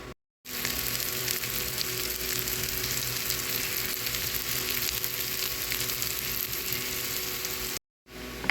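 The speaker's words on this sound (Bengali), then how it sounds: "পেঁয়াজটা বাদামি করে ভাজা হয়ে গেছে।" Onions brown in mustard oil in a frying pan, giving a steady, dense sizzle that runs unbroken and close, with brief silent gaps at the very start and end.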